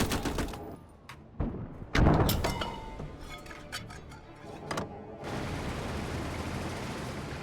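Infantry battle in the Gates of Hell video game, with many .30 cal machine guns firing. Sharp bursts and single cracks come near and far, with rattling echoes and a dense rumble of distant fire behind them.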